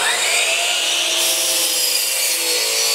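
A miter saw cuts through wood with a loud, sustained whine, its pitch dropping slightly as the blade bites partway through, heard close and alone without speech.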